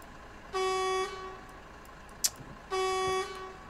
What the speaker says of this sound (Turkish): Bak, bir de kornaya basıyor.